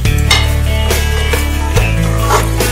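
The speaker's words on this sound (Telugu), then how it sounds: "ఇదంతా మొత్తం కలుపుకుందాం నీట్గా" A rice and spice mix of coriander powder, chilli powder, garam masala and salt, stirred in a pan over a steady close sizzle with scraping sweeps, no voices.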